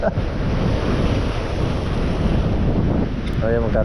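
Large ocean waves surge around a fishing boat offshore, a continuous loud rushing wash mixed with gusty wind noise on the microphone, with a short voice near the end.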